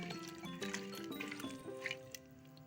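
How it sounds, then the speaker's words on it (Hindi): Lentils and water being stirred in a pot for sambar, with faint wet sloshing and squishing under soft tonal background sounds and no talking. "अब इसे हम मिक्स कर देंगे"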